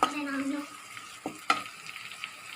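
Turmeric and salt frying in a pan, giving a soft sizzle with a few stirring scrapes and clicks, fairly quiet and close, with a brief voice at the start.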